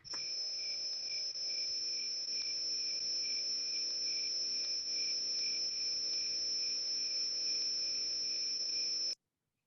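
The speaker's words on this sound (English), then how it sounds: "If you guessed crickets outside" Crickets chirping outdoors in a continuous, steady high trill, fairly faint and unbroken until it cuts off abruptly.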